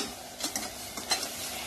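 A spoon stirs garam masala and coriander powder into boiling water in a pan, soft scraping swishes in a few uneven strokes over a low simmering hiss, close and fairly quiet.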